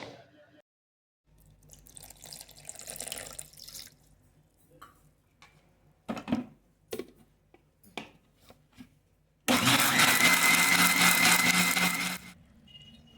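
Quiet clinks and taps give way to a mixer grinder whirring loudly for about three seconds, grinding sliced guava with sugar, before cutting off.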